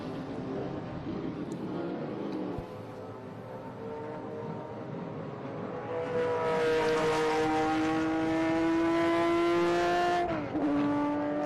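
Air-cooled Porsche 911 race cars roar past during a Governor's Cup race, a steady engine drone rising into a loud, sustained high-revving pass that climbs in pitch, then drops sharply as the car shifts gears near the end.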